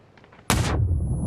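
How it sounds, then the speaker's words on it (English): A single loud gunshot bursts out of near silence in the battle royale game PUBG during a competitive esports grand final match, followed by a sustained low rumbling tail. "Until the gunshots start ringing out, they're going to assume Exhalation have just camped out here."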